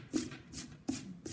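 A hand brushing eraser crumbs off a sheet of paper, four quick swishing sweeps at an even pace, close and soft with no talk.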